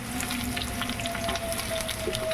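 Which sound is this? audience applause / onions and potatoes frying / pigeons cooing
onions and potatoes frying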